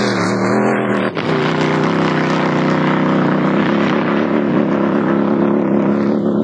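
A Dakar rally vehicle roars past at full speed at the prologue, a loud sustained engine drone with a sharp rise and a steady high-revving tone close by.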